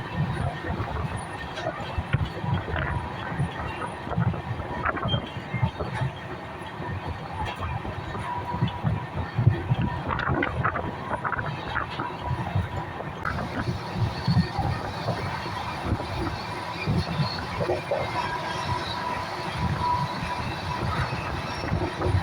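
Train running from Chennai to Jodhpur, heard from inside as a steady rumble with rhythmic wheel clatter and occasional squeals that carries on throughout, with faint talk underneath.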